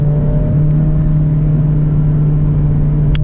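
A 2024 Honda Civic Type R in R mode drones steadily at a constant pitch while downshifting through a turn, loud and close, with a brief sharp noise near the end and no talking.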